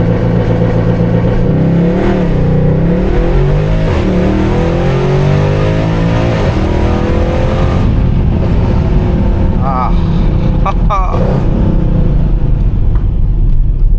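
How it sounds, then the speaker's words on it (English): A 2012 Mercedes-Benz C63 AMG W204 with a 6.2L V8 makes a launch-control start at night, its loud engine roaring and climbing through rising revs with gear shifts, heard from inside the car, with voices under the engine noise. "I actually came here just to do a launch control for you guys"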